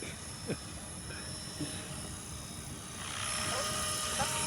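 A Trex 500 RC helicopter with an MD500 scale body flies over an open field, its rotor and motor making a steady whirring drone at moderate distance that grows slightly louder toward the end.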